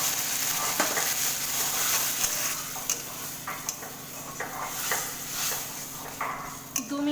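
A mustard paste and green chili curry for bottle gourd leaves with prawns simmers and sizzles in a pan after water is added, with a soft constant hiss and irregular ticks and scrapes from stirring.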